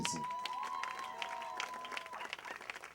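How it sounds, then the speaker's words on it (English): Audience applause for performers at the Gimistory storytelling festival in the Cayman Islands, fairly faint scattered clapping with a whistle and a few cheering voices, tapering off toward the end. "Give these people a lusty round of applause again, please."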